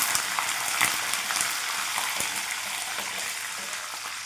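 Garlic cloves, curry leaves and lentils frying in plenty of hot oil, a dense, even crackling sizzle with faint stirring taps, steady and close without speech.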